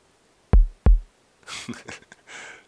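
Two sharp, deep thumps of a heartbeat effect in Minecraft, close together and loud, followed by a few softer breathy, hissing sounds.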